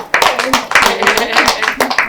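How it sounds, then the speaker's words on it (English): An audience at a women's security awareness lecture claps after a talk, with sharp, fairly close claps rising and falling across the brief stretch while voices carry on over them. "Let's clap."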